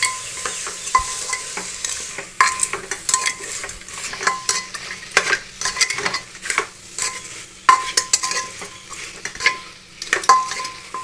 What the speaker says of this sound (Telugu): టమాటాలు వేసుకొని కొత్తిమీర, కరివేపాకు మగ్గేంత వరకు బాగా వేయించాలి